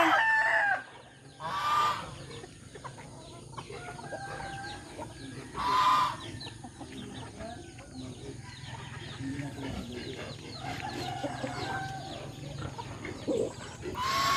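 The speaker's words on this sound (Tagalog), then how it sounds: "Rhode Island chicken." Rhode Island chickens cluck steadily nearby while roosters crow loudly a few times over a busy farmyard din of other birds.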